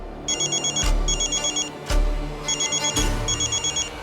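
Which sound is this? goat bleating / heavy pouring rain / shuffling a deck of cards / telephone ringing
telephone ringing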